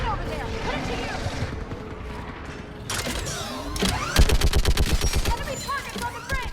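A mounted gun fires in the video game Mass Effect 3, with creaking mechanical clatter giving way to a rapid, loud burst of repeated shots amid battle noise and shouted voices.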